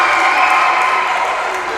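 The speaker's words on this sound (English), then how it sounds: "The crowd is erupting." A dense, steady roar from a crowd at a basketball grand final, the Division I LU Whelan Trophy decider, surges throughout as a home-side steal stretches the lead, with a commentator's voice faintly under the noise.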